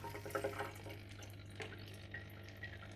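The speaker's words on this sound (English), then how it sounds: "that pump's only making that noise because it's not sitting properly in the water" AquaEL Turbo 500 aquarium filter pump running while not seated properly in the water, giving a steady watery churning and splashing with a constant low hum throughout, close by.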